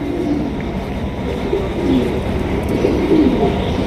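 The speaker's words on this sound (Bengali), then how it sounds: "এখানে রয়েছে আরও একজোড়া শৌখিন কবুতর" A pair of fancy pigeons coos up close, loud throaty warbling calls repeating over a dense, continuous low murmur from other birds nearby.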